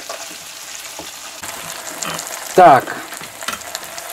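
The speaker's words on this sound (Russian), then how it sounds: "какая окуневая икра стреляет" Perch roe pops and spits in a frying pan during a quick fried pike liver and vegetable meal, a soft sizzle with one loud burst partway through, then more scattered crackles, and a brief spoken word.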